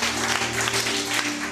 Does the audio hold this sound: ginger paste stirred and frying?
no